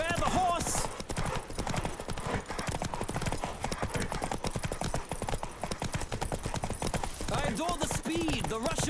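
Horse galloping hooves in The Witcher 3 video game, a loud, unbroken pounding rhythm of hoofbeats close by, with brief voiced game dialogue over the gallop.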